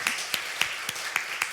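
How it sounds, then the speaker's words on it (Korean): A few people in a church congregation clap in a sparse, irregular pattern of about six sharp claps over a quiet room, with no talking. "우리 박수로 하나 하겠습니다"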